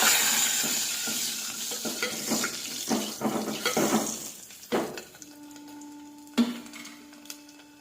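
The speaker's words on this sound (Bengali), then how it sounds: "এই যে শুকুই দিয়ে দিলাম তেলটাতে। একটু নাড়াচাড়া করে নেব।" Shukui, a dried fish, stirred in hot oil in a pan: a close utensil scraping and stirring over a soft sizzle, with a few sharp knocks and a sustained tonal ring near the end.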